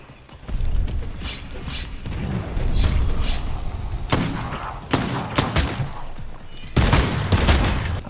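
Gunfire from a revolver in the video game Bloodhunt rings out as repeated loud sharp shots in uneven bursts, mixed with mechanical clicks and game effects, close and dense throughout.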